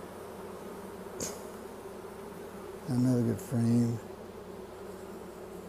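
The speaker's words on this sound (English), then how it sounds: "Plenty of bees" Honey bees buzzing in an open hive while frames are inspected, a steady near drone throughout, with someone briefly speaking over it.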